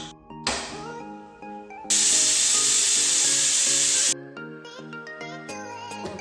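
A pressure cooker on the stove, cooking a Kerala-style breakfast curry for poori and bajji, lets out one loud, sustained steam whistle lasting about two seconds, set among tonal background music before and after.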